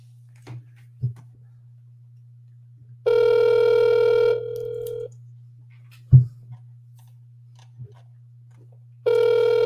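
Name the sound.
telephone ringing on an unanswered call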